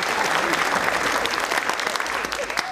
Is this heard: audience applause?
yes